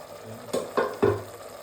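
Chickpea biryani masala being sautéed and stirred in a covered pot, with three short scraping stir strokes over a faint background sizzle, close and fairly quiet.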